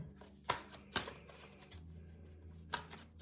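Quick riffling bursts of cards being shuffled, three distinct flurries with soft handling noise in between, close and fairly quiet.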